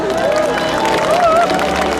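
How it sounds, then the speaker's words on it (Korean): A large outdoor festival crowd at the Jindo Sea Parting Festival claps and cheers in a steady, continuous wash of applause, with a voice ringing over a loudspeaker above it. "여러분 모두 함께 다시 한번 박수 부탁드립니다"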